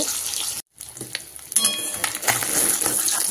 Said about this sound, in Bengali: মাছগুলোকে সুন্দর করে ফ্রাই করে তারপরে আমি আলুগুলোকেও ফ্রাই করব